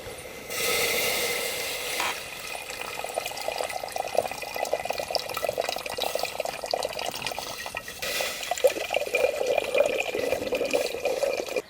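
Water is poured into an earthenware clay casserole pot for cooking chickpeas, a close, continuous splashing and gurgling stream lasting several seconds with a brief pause near the start.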